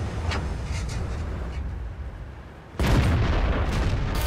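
A tank gun fires in World of Tanks, a sudden loud broadband blast that breaks over low rumbling engine noise and keeps roaring for over a second.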